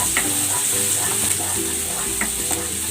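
Garlic sautés in a hot pan as the start of a beef caldereta, giving a loud, continuous sizzle with scattered scraping stir taps throughout. There is no talking.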